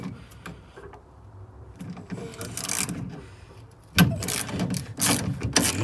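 Metal clicks and scraping from a hex key turning a bolt loose on a rear-wheel-drive Golf 2 prototype, in uneven bursts that sharpen and grow louder toward the end.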